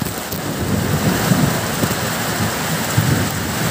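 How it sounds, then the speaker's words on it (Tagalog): Heavy rain pours steadily through a flood, a dense close roar with low thunder rumbling beneath it. "Lakas ang ulan eh. Mahirap pag ganito kalakas ang ulan, no?"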